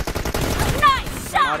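Gunfire in the mobile battle-royale game PUBG Mobile, a rapid burst of shots followed by two short sharp reports, loud and close, with game effects layered over it.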